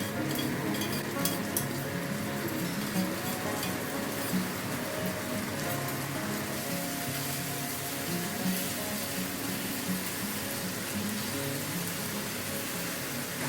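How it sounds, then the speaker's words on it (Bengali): Two spoons of ginger-garlic paste hit lightly browned fried onions in a pan, giving a steady, dense, rain-like sizzle with faint background music. "এবার এর মধ্যে আমি 2 চামচ আদা রসুন পেস্ট দিয়ে দেবো।"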